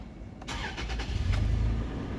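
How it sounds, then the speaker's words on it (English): A car engine cranks briefly and catches, settling into a steady idle that grows slightly louder, heard close up with no talking. "When I spark the car."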